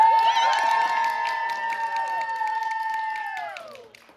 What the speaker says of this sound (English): So let's give one more applause.